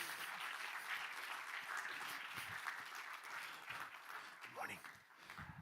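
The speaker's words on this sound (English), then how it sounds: "Keep on applauding." Sustained applause from an audience at a marine knowledge panel event, a steady dense clapping wash that carries on throughout and eases slightly near the end, with faint voices beneath.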